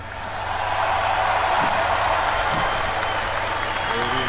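Political rally audience clapping builds within half a second into a sustained, loud wash of applause with faint crowd voices mixed in.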